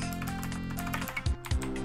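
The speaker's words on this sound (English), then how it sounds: "If you can hear furious keyboard mashing at any point, that's because this game's controls are hilariously unresponsive." A computer keyboard is mashed furiously during video game play, a dense burst of loud clacking keys over steady game music, with a few heavier thumps near the end.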